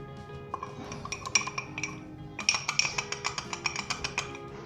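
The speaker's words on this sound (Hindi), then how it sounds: "5 to 10 मिनट्स मैंने फोर्क के साथ अच्छे तरीके से इसे मिक्स कर लिए" A fork clinks and scrapes rhythmically against a bowl while mixing strawberry pound cake batter made with self-rising flour, the quick metallic taps coming close and clear in two bursts.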